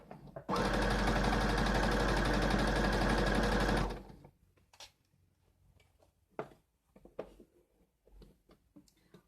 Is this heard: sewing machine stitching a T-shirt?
yes